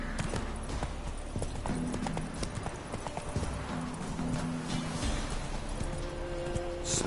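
Roach the horse gallops in The Witcher 3, hooves beating a quick, steady clip-clop up close with a brief whinny amid game ambience.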